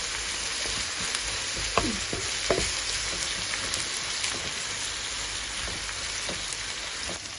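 Cow tripe fries in a pan as ginger and garlic go in, giving a dense, steady close sizzle like rain on a surface, with a few sharper pops and a faint stir, no talk.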